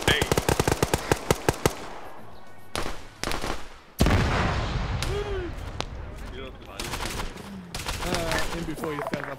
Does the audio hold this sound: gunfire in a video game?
yes